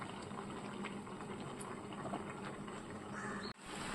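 Water bubbles steadily as it boils down in a pot with taro pieces, a continuous soft burbling simmer heard close and alone.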